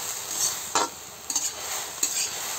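Garlic paste fries in a pan with a steady, moderate sizzle, punctuated by a few sharp scrapes and clinks of a utensil stirring.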